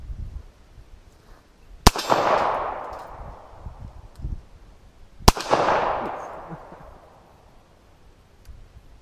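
Two loud gunshots from a Lorcin L9 9mm semi-automatic pistol, spaced about three seconds apart, each a sharp crack followed by a long rolling echo that fades slowly.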